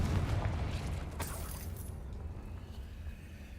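A fiery Confringo blasting spell cast in the Hogwarts Legacy video game: one sharp, broadband whooshing burst early on, carried over a steady low rumble of game ambience.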